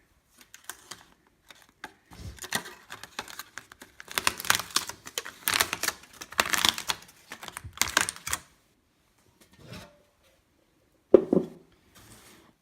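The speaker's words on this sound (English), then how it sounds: "So let's go ahead and peel this thing off and take a look in here." Aluminum foil tape is peeled off the lid of a metal bucket used as a Faraday cage, heard as bursts of crackly ripping and crinkling close up, with pauses between pulls and a few final tugs.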